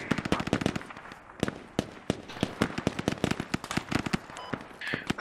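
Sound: gunfire and grenade in video game Squad

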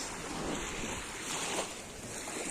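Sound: sea waves washing against feet at a pier

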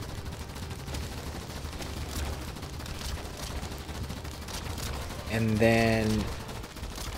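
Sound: sniper turrets firing in video game Idun

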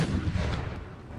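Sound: howitzer firing carcass shot in Empire: Total War, video game

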